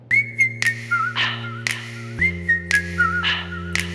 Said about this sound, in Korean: 인트로 부분 휘파람 소리는 언제 들어도 소름이 돋는다